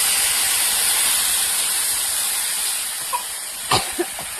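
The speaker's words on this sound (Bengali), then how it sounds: "আর জলটা গরম করে রেখেছিলাম, গরম জল দিয়ে দিলাম।" Hot water poured into a cooking pan of fried-down masala, giving a loud, steady steam hiss and sizzle throughout, with a few brief sharper bursts near the end.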